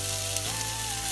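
Mushrooms and sausages fry in a pan, a steady close sizzle running through the whole brief moment alone, with a thin hum in the background.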